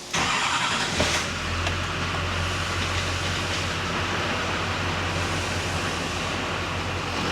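An Isuzu D-Max dually diesel with a fuel system failure cranks and catches about a second in, then settles into a steady low idle rumble that holds on loud and even, with no talking.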